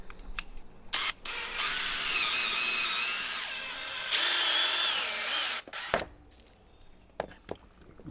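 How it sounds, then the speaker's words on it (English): A handheld power drill bores screw holes, whining loudly in two long runs with changing pitch and a brief start before them, followed by clicks and handling noises, with no talking. "now what we're going to do is drill about 4 holes in each of these for the screws"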